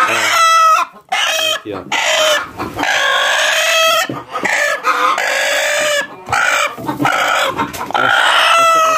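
Several chickens, including a blue-egg-laying hen, cluck and squawk close by in quick irregular bursts, with a rooster-like call mixed in and a brief spoken word.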